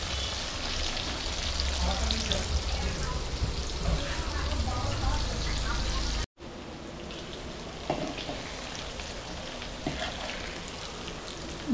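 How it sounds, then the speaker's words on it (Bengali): Okra fries in a pan at home with a continuous, even sizzle like light rain. The sound breaks off briefly midway, then resumes at a slightly lower level. "ঢেঁড়স ভাজা হচ্ছে।"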